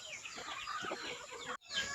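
Rhode Island chickens in their coop cluck and call steadily at close range, with a brief drop to near silence before the clucking resumes.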